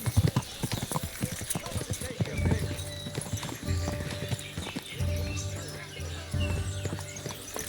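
Horse hooves clip-clopping in the medieval video game Kingdom Come Deliverance II, a close, uneven stream of hoof strikes on hard ground, with a horse snorting and a voice talking over it.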